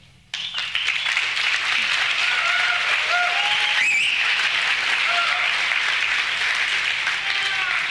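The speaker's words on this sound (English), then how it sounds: "I'm a little concerned about the number of people clapping for that at Anarchapulco" An audience at Anarchapulco claps in sustained, dense applause from the start, loud and continuous throughout, with a few voices faintly audible beneath it.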